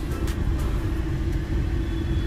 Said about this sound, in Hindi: देखिए मेरी गाड़ी पूरी पीछे तक जा रही है अभी दोस्तों